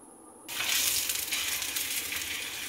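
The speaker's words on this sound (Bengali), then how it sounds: "রুটিটা দিয়ে আমি ভালো করে নেড়ে চেড়ে ভেজে নিচ্ছি।" After a quiet start, a palm-fruit paratha goes into a frying pan of oil and sets off a sudden, loud and steady sizzle that continues close by.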